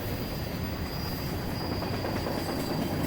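An SNA railroad train rumbles steadily past at close range, a loud continuous roar with a thin high wheel squeal running through it.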